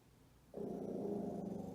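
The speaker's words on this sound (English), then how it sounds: "Mr. Guard Dog." A guard dog lets out a low, steady growl that starts abruptly and rumbles on close by, with no speech over it.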